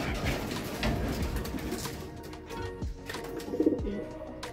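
Soft pigeon coos blend into a busy outdoor background, with a brief louder burst of bird sound near the end.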